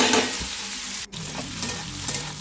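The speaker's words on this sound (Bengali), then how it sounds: "আলুটা দিয়ে একটু ভালো করে ভেজে নিই" Potatoes fry in a pan with oil for a home-cooked rajma dish, giving a steady, close sizzle and hiss throughout, broken by the scrape and clatter of stirring and a momentary dip in the sound, with no talking.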